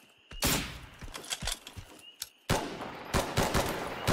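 Gunfire in an extraction shooter video game: a few sharp, booming shots and short rapid bursts, loud and close, separated by brief gaps, with no speech.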